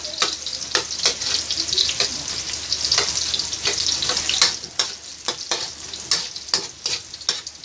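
Ginger frying and being stirred in a pan, a steady bright sizzle overlaid with regular scraping strokes of the spatula, close and loud with no talk.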